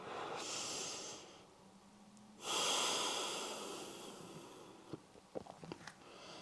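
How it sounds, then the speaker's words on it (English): Slow, deep breathing in a wide-legged yoga forward fold: a long, loud inhale and exhale, then another drawn-out breath that fades, followed by a few small clicks and rustles, all close and quiet. "We're gonna breathe here for 5 breaths"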